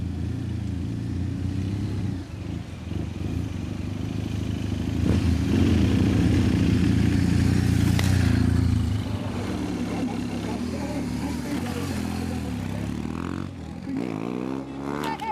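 Motorcycles riding in a group charity ride, a loud continuous engine drone that swells and revs, close by, with speech faintly mixed in.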